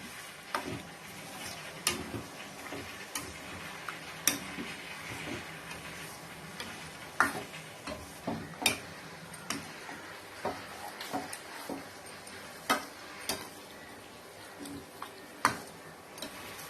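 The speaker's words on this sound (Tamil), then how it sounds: "இது மாதிரி கைவிடாம கிளறி விட்டுட்டே இருங்க, இல்லைன்னா நம்மளுக்கு அடியில பிடிச்சுக்கும்." A pan of goat intestine and blood fry being stirred steadily, with a soft sizzle underneath and regular light scraping clicks of the spoon against the pan at a slow, even rhythm.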